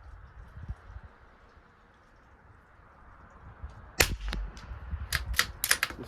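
Rifle shots at a 100-yard range with SK Rifle Match ammunition, fired from a Tikka T1X or Savage MKII BTV, crack out as several sharp reports in the second half after a quiet stretch, with bolt clatter among them.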